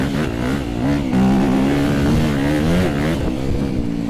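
A 2025 Honda CRF250R Works Edition dirt bike engine revs on a Utah single-track trail, its pitch swinging up and down in steady, close, loud waves with no talking.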